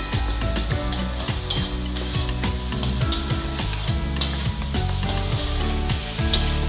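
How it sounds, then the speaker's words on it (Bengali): Prawn stuffing stirred and fried in a pan sizzles steadily and close, with a spatula scraping and clinking against the metal in a loose repeating rhythm, without speech. "পুরটা আমি ভালো করে নেড়ে চেড়ে তৈরি করে নিচ্ছি, যাতে একটুও জল না থাকে।"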